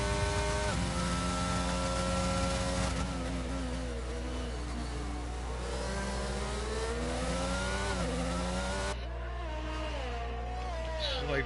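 Race cars roar through a Ferrari versus Mercedes battle in a racing video game, engines holding steady high tones with rising and falling pitch as they shift and accelerate, loud and continuous.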